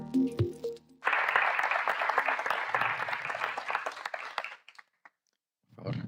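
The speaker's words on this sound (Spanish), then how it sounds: "Recibámoslo con un fuerte aplauso." Audience applause welcoming a speaker at a panel on the development of Guatemala's national stock exchange, a burst of dense clapping lasting about four seconds after a brief voice, fading out before talk resumes.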